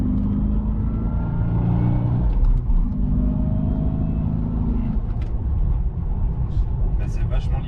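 Cadillac CTS-V with about 800 horsepower accelerating hard with wheelspin, a loud, close, sustained engine roar and rumble under in-car conversation.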